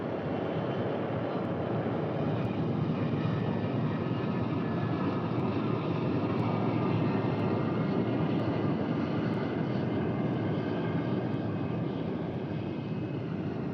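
Steady roar of the North American X-15 rocket research aircraft, a sleek black plane, sounding as a continuous broadband engine rush that holds at an even level throughout with no pauses or talk.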